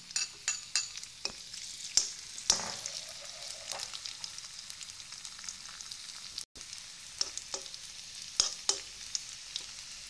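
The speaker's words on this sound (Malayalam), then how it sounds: "നെയ്യ് ചൂടാകുമ്പോൾ നമുക്ക് ഇതിലോട്ട് കുറച്ച് കാഷ്യൂ നട്ട് ഇട്ട് കൊടുക്കാം ഇതിലേക്ക് കിസ്മിസ് കൂടെ ഇട്ട് കൊടുക്കാം" Cashew nuts and raisins sizzle in hot ghee for pineapple payasam: a steady soft crackle broken by sharp spoon clicks against the pan, close up and with no voices.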